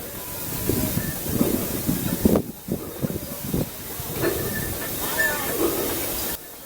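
A steam crane at Greenfield Village, a historic railway setting, lets off a steady, loud hiss of escaping steam with brief breaks and bursts, and faint background noise runs beneath it.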